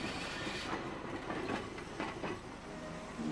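Steady rumbling rattle of the Peak Cable Tram in Hong Kong running on its rails, with rhythmic clacks of the wheels over a continuous mechanical drone, fairly loud and close.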